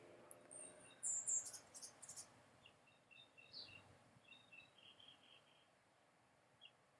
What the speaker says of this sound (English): There's like birds chirping, and I can hear them from inside.